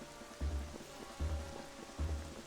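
Rainfall in a Zelda video game hisses steadily in the background, broken by three evenly spaced low thumps, with no talking.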